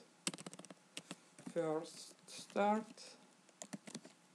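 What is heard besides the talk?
typing on a computer keyboard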